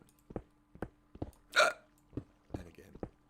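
A run of close, quiet hiccups, roughly seven short jerky catches spaced a little under half a second apart, broken by one longer breathy vocal burst partway through.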